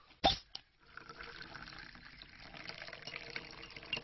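Salt soda is poured into a glass, a faint, steady fizzing pour that follows a brief cough-like knock at the start.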